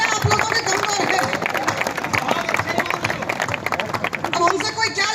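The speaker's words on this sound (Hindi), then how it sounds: "तालियां आप लोगों के कमजोर है।" Audience applause at a Hindi kavi sammelan comedy-poetry night at the Kishangarh Balaji fair: dense, continuous crowd clapping that holds steady throughout, with a murmur of voices mixed in.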